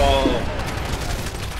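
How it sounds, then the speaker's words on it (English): Dense gunfire and explosions burst in Titanfall gameplay, a loud rapid fusillade with booming impacts over about two seconds, partly under players' voices. "There's so much explosion."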